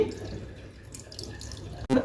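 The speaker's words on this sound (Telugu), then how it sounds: "పప్పుకు ఉడికే సరిపడినంత ఫిల్టర్ వాటర్ పట్టుకొని" Filtered water runs from a filter tap into a vessel, a short, close, steady pour.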